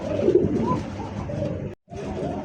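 Black Lahori pigeon giving soft, close, repeated cooing calls, with a brief drop to silence partway through.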